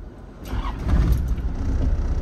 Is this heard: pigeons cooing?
no